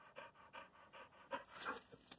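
A dog pants rapidly and steadily after exertion, about nine quick breaths in two seconds, faint and close, with a light sound at the end.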